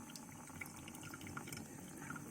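Water runs steadily over a 361 Degrees Rainblock women's waterproof shoe, a continuous close splashing and trickling wash with no voices over it.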